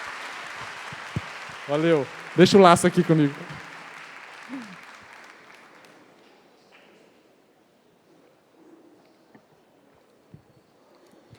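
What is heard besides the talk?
audience applause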